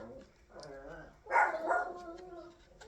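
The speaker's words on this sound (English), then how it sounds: "And my dogs are barking." Dogs bark indoors in a home, with a clear bark and yelps rising partway through that are mixed with a person's voice.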